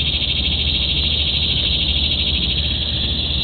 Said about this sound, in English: Some kind of insect. Or frog. Someone told me they were tree frogs.